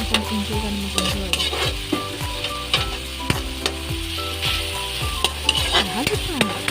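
Kangkong and black beans sautéing in a pan while being stirred, with a steady sizzle and repeated scraping, clinking utensil strokes throughout, close and fairly loud.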